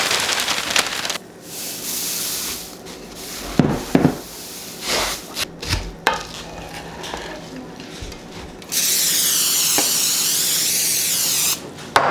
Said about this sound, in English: So if you spray your pan so it doesn't stick